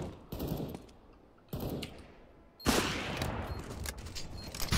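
Gunfire from a Counter-Strike match. Bursts of rapid automatic fire start in sharp clusters over steady game noise and grow louder and denser toward the end, with no talk over them.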